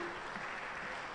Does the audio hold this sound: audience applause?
yes